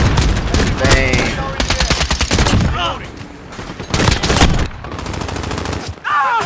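Gunfire in the Modern Warfare video game, with rapid automatic bursts and single shots rattling loudly and close throughout, broken by short pauses.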